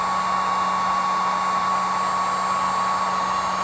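A heat gun or hair dryer warms a Moto Z3 Droid phone screen to soften its adhesive, a loud, steady blowing whir with a constant motor hum throughout, no talk.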